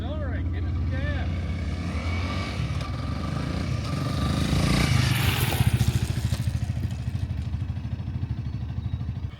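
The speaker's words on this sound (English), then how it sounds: "Accelerate, give it some gas." A motorcycle, a smaller bike, revs and accelerates hard during a riding-skills drill, its engine note climbing loud and close with a rapid pulsing rhythm, while people talk over it early on.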